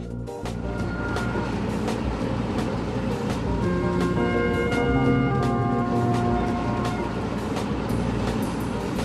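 A maglev train runs along its track with a continuous rumbling hum and faint tonal whines rising and falling, steady and fairly close.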